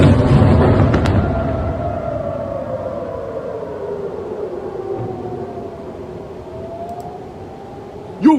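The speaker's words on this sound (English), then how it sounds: "I believe this is the impact. It was a multi-100-kilogram warhead. It hit in Tel Aviv." Sirens wail over Tel Aviv during a missile warhead strike, with gliding siren tones above a heavy, fading rumble and a sharp, short burst at the very end.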